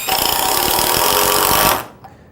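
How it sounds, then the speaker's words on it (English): An 18-volt cordless impact driver hammers a screw into hard maple in one sustained, loud rapid-fire burst up close, cutting off abruptly after about two seconds. "Now let's look at the same tools driving screws into hard maple."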